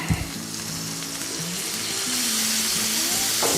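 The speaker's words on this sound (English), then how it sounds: "Saute some of these veggies up." Onions and peppers sizzle steadily on a Blackstone griddle, a loud, continuous frying hiss with faint clinks of a spatula stirring the vegetables.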